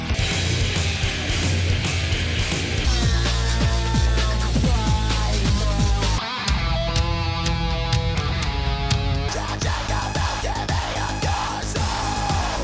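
Excerpt of a grunge song, loud and continuous full-band music with layered guitars, drums and vocals running throughout, including a brief dropout near the middle.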